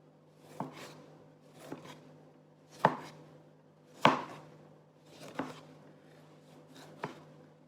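A knife cuts through a tomato on a board in six distinct, evenly spaced chops about a second apart, close and fairly quiet, with no talking.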